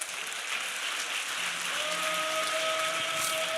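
Congregation clapping in a church during a Sunday evening service, a steady moderate wash of applause with a faint tone sustained underneath.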